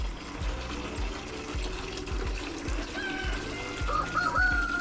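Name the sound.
water pouring into animal waterer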